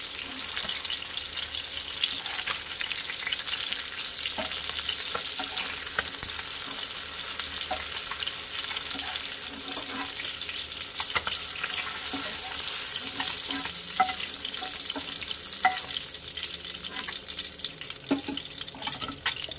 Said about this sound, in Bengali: পরবর্তী মাছগুলো ভেজে আমি ফিরে আসছি পরের প্রসেসে